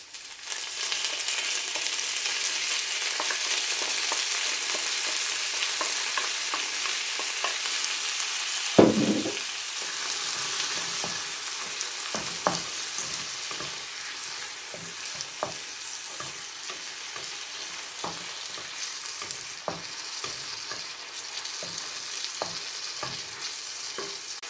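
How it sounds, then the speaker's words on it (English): Frozen mixed vegetables and peppers fry with onions and garlic in a pan, giving a loud, continuous hissing sizzle, with a sharp clatter as they go in and intermittent stirring scrapes afterward. "So this is about 1 cup of frozen veg and peppers that I'm going to throw into there."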